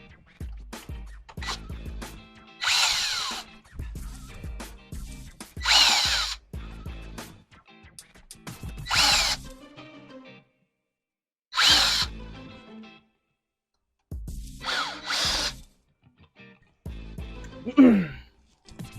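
A power drill backs screws out of the dash of a 2023 Hyundai Elantra in several loud, close whirring bursts separated by silent pauses, with faint handling clicks between runs.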